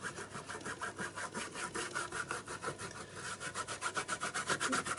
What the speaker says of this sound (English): give it a quick rub over with a wet wipe, and that will just take off any excess ink